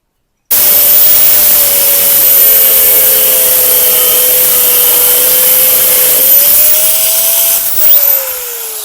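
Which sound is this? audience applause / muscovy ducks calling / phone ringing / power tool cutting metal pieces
power tool cutting metal pieces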